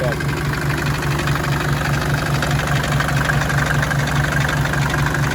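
A 2.5-litre five-cylinder car engine idles steadily with a low, even drone and a faint rhythmic knock running through it, continuous and fairly close.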